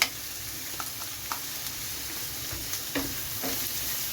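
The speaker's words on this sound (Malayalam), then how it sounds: "നമുക്കിതൊന്ന് വഴന്ന് വരുന്നിടം വരെ വെയിറ്റ് ചെയ്യാം" Chopped onions sautéing with a pinch of salt in a pan for a Kerala-style tinned tuna dish, giving a steady soft sizzle with occasional faint stirring clicks, fairly close and with no voices.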